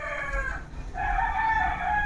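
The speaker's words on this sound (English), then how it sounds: "The roosters are going to join us now" Roosters crowing in a rural area of the Philippines, two long drawn-out crows one after another, fairly close and loud with no talk.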